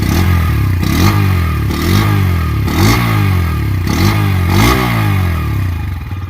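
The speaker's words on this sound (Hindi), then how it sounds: "अभी इसका जो एग्जॉस्ट साउंड है वो सुना देता हूँ कि कैसा रहने वाला है" A Bajaj Pulsar N125 motorcycle with an underbelly exhaust revs repeatedly, five or six throttle blips rising and falling in a steady rhythm over a heavy, bassy idle, loud and close with no talk.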